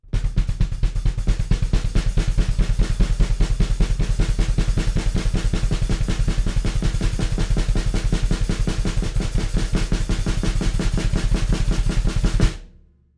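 Fast, relentless blast-beat drumming with snare and bass drum striking together in a dense, even stream of hits, loud and close, stopping abruptly.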